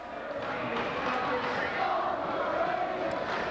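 At a high school boys' basketball game, Moline Maroon fans chant together in a steady, distant roar of crowd voices filling the gym, with a commentator talking over it.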